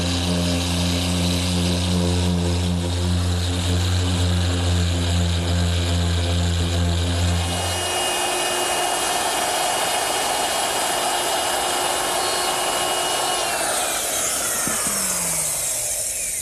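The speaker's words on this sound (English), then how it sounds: "I'm also going to use the same sander to do the top itself" A random orbit sander works a wooden tabletop with a continuous, loud, steady whine and hum, whose tone shifts partway through as the sander moves, with no talk.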